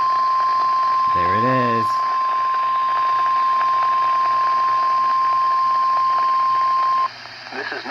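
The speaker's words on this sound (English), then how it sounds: "The preceding signal was a test of weather radio station WXL50 public warning system." NOAA weather radio WXL50 public warning system test signal: a loud, steady single-pitch tone that holds for about seven seconds before cutting off, with a brief voice speaking over it near the start.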